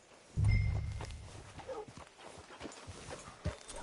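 A horse's hooves in a PS4 video game: a heavy low thud at the start, then soft irregular clip-clop steps, fairly quiet.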